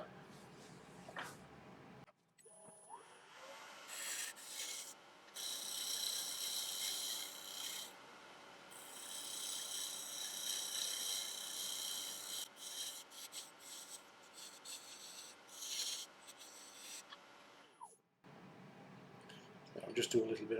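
Steady rasping of a tool shaping a wooden workshop mallet as it spins on a wood lathe, tapering the piece, running continuously for about fifteen seconds between short pauses, close and moderately loud with speech around it.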